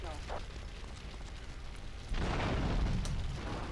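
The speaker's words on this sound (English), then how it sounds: "the plane blows up a second time" In GTA III Definitive Edition, an aircraft blows up with a sudden heavy, rumbling blast that comes in partway through and rolls on loudly after a stretch of quieter game noise, with a voice talking faintly at times.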